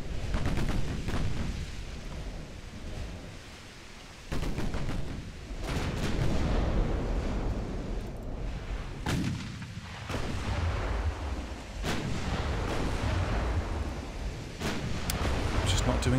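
Battlecruiser's 9-inch naval guns firing in the video game Ultimate Admiral: Dreadnoughts, heavy booming salvos and rumbling impacts repeating every few seconds, loud and close over a continuous low roar.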